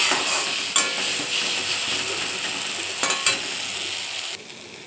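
Spice paste frying in oil in a kadai, a loud bright sizzle held throughout with a few sharp spatula scrapes against the pan.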